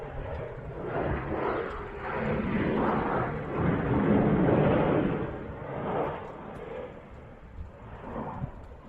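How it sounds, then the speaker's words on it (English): Jet aircraft roaring past at an air show, a broad rushing engine rumble that swells to a peak mid-pass and then fades, loud and sustained without talk. "Pretty sure I need whatever kind of jet that is."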